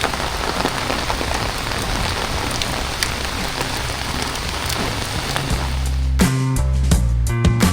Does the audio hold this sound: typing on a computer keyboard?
no